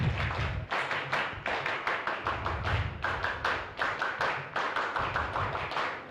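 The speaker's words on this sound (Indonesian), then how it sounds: "2 kali tepuk pramuka." Scouts at a trainers' opening ceremony perform the Pramuka clap, a patterned rhythmic sequence of sharp group hand claps and thumps repeated twice, crisp and fairly distant in a hall.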